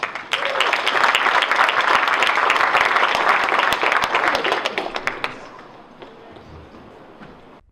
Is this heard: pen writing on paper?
no